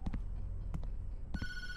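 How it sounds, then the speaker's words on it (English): A telephone in the video game Tattletail starts ringing, a bright trilling bell that comes in near the end after a few soft thuds and clicks, faint and somewhat distant. "Don't answer the phone."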